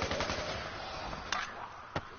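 AK-47 style rifle fire in Call of Duty Black Ops 3 Zombies, a steady rattling burst of game gunfire with two sharper shots standing out near the end, sustained and fairly loud with no talk.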